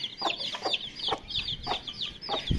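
Chicks cluck repeatedly nearby in short, uneven bursts, several birds overlapping with soft background noise.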